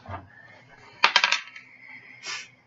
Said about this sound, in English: You want me to roll my actual dice?